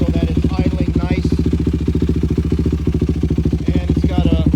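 A 2004 Yamaha YFZ 450 ATV engine idles steadily up close, its rapid, even putter chugging along with a slight clatter and no voices.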